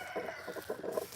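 Chickens on a Piedmont homestead on a hot day give faint, soft clucks in a short, quiet burst from a little distance.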